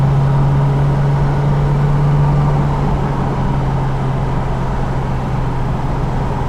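A 1969 Mercedes-Benz 280SL engine hums steadily while driving, heard from inside the car as a constant mid-pitched drone with a low tonal note, evenly loud and without any talking.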